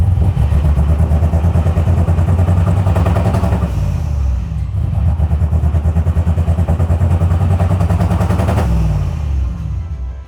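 A loud truck engine with a failing rod runs steadily up close with a harsh, rhythmic knocking clatter beating through it, pulsing without pause and no talking.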